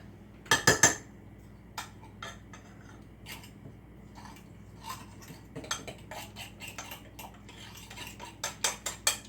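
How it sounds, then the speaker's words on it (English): A fork whisks eggs and other ingredients for a crustless quiche in a bowl, with quick clinking taps against the side, an isolated burst early on, then sparse knocks that cluster into a faster run at the end. "I'm wondering if that's well mixed enough with a fork."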